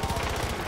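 Rapid automatic gunfire in Far Cry 5, a quick burst of repeated shots close by, lasting under a second.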